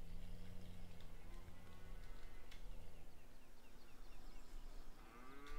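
Cattle in the Farming Simulator video game moo in long, droning calls that overlap steadily, with a bird chirping faintly and no talk.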